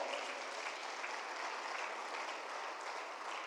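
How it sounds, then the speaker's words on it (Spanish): A church congregation breaks into steady, dense applause in a worship service, a continuous wash of many hands clapping together at moderate volume without pause. "denle otro aplauso al Señor"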